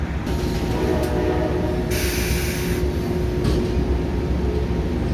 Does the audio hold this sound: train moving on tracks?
yes